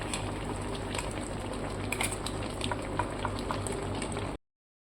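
Chicken curry simmering in a pot after poppy-seed and cashew paste water is added, cooked without oil: a steady, close bubbling boil with small pops and faint utensil clinks, running continuously before cutting off abruptly.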